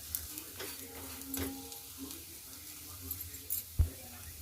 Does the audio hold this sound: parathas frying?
yes